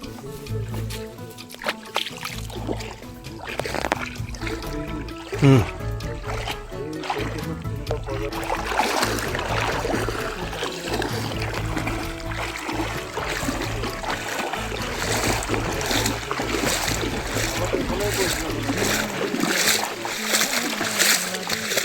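A motorbike fords a shallow river near a forest, water splashing and churning around the wheels with a low engine drone beneath, growing busier and louder partway through, with voices talking over it.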